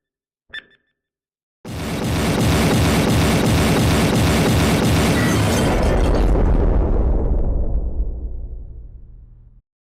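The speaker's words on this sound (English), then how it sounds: "What an explosion." After a short click, a massive explosion erupts and roars for several seconds, rumbling deep and loud before slowly dying away.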